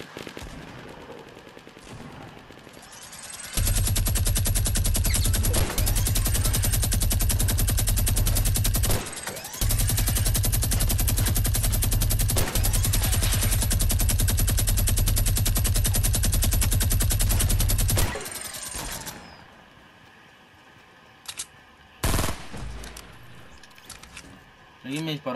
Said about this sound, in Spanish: Lo ataco con minigun.